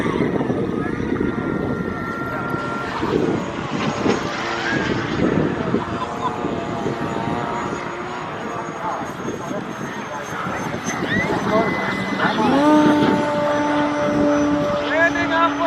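A Pilatus PC-21 flies at an RC event, its engine note droning steadily and loudly throughout with rising and falling tones as it passes, under a busy crowd-and-field background.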